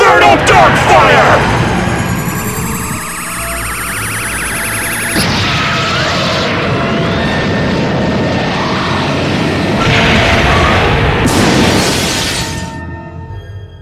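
A dark fire attack blast in a live-action Yu-Gi-Oh! duel scene: a loud, sustained roaring, crackling surge with sharp shattering bursts near the start, middle and end, filling the whole stretch alone.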